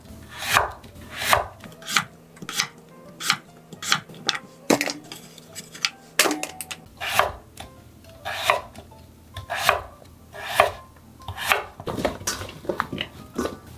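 A knife chops Korean radish into thick chunks on a cutting board for dongchimi, striking in a steady rhythm of sharp, close, evenly spaced thuds, roughly a dozen and a half, with no talking.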